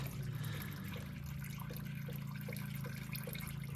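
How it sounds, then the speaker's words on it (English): Motor oil drains from a John Deere Z930M zero-turn mower during an oil change, a steady low trickling pour, continuous and fairly faint, with no talking. "oil's still draining. We got a good amount of oil coming out of this guy."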